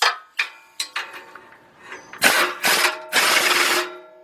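Bolts on the right front catalytic converter of a 2005 Nissan Pathfinder with a 4.0 engine being tightened under the vehicle, with scattered sharp metallic clicks and knocks early, then three longer bursts of ratcheting wrench noise close by.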